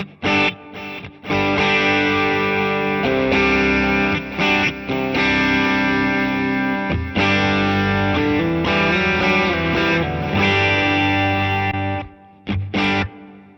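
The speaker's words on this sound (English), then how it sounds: "So that's still got the reverb from the amp cabinet." Distorted electric guitar chords and notes ring out through a Sonicake Pocket Master and an amp with reverb from the amp cabinet, played in bursts with brief pauses and lingering tails.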